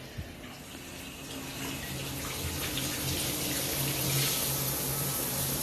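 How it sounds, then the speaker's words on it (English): Water pours steadily from a new shower head, turned on cold, as a continuous close hiss and splash with no talking, holding an even level that swells slightly toward the end. "So I turn on the water, as cold as we can get it in Texas right now."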